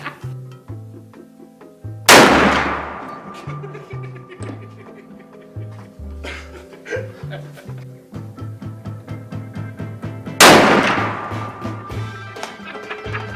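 A very large, heavy prototype rifle fires twice, each shot a loud close boom with a long ringing decay, set among outdoor voices talking throughout.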